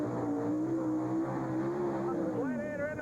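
A 1949 Willys drag car called the Gladiator roars through its run at an NMRA drag race in San Jose, its engine note climbing and shifting under an announcer's voice.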